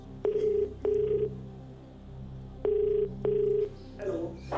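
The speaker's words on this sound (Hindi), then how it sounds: "ओके, कंप्यूटर जी डॉक्टर ओपी सूरी को फोन लगाया जाए।" A telephone call placed on the KBC game show, with a ringback tone sounding in two pairs of steady electronic rings and a pause between the pairs, followed by a faint click as the line connects.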